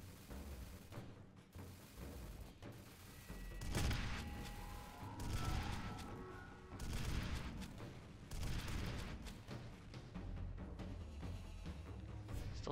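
Bursts of automatic gunfire aimed at a turret in F.E.A.R. Files (Malice level) rattle in repeated volleys with booming impacts, over a dense, noisy game soundscape.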